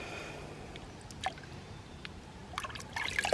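Water trickles and splashes while a cleaned brook trout is rinsed at a riverside, a faint flowing wash with a few clicks, then louder splashing at the end.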